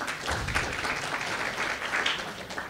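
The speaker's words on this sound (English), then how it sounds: "give Alex a round of applause for his work" An audience at a university brown-bag seminar claps after a talk. The applause is steady, moderately close and fills the whole short stretch, with no speech over it.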